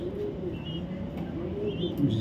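Club racing pigeons in a breeding loft give soft, low cooing throughout, steady and moderately close, with faint chirps and a light background hum.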